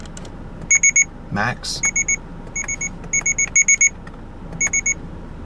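A 2017 Subaru Outback warning chime plays as a series of short, bright electronic beeps in quick bursts at the set warning volume. A brief voice speaks in between.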